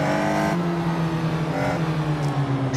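The engine of a Caterham Super 7 race car on track revs hard and steadily, a loud close whine that drops in pitch as it changes gear and then climbs again, with no talking.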